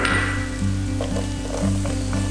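Garlic fries in 60 grams of butter in a pan over medium heat, a bright, close sizzle with a rhythmic stirring pattern repeating every half second or so.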